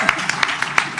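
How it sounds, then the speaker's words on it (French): Audience applause for the guests of a live French-language podcast recording, a brief burst of clapping with a few sharp individual claps standing out, fairly close and loud. "Si on peut donner une bonne main d'applaudissement à P.O. et à Sam qui sont venus à Radio Tape"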